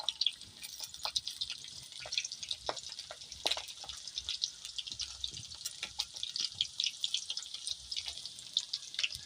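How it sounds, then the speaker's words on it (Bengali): Chicken kababs shallow-frying in oil give off a faint, steady crackle with scattered sharp pops and sizzles, close by and alone. "উল্টে পাল্টে ভেজে নেব, খুব বেশি ভাজবো না, হালকা করেই ভেজে নিচ্ছি।"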